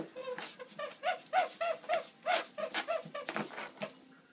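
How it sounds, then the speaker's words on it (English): A dog play-attacks a person's toe, letting out a rapid series of high whimpers and small growly yips in an uneven rhythm, close and fairly soft. "Look at this vicious dog."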